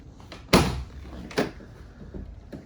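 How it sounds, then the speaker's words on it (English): Rear doors of a 2014 Ford Transit 2.2 TDCi van open with a sharp metallic clunk, then a second, softer latch thud about a second later, close by with no talk. "So opening up the rear doors,"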